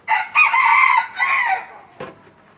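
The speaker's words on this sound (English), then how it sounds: "If that rooster will hush over there, he's mad at me." A rooster crows loudly nearby, one drawn-out cock-a-doodle-doo followed by a short sharp cluck.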